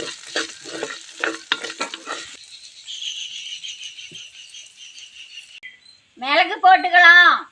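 Green chillies stirred and frying in a pan for a drumstick-leaf dosa batter, a steady sizzle with scraping stirs at first, then a softer hiss, and a short voiced burst near the end.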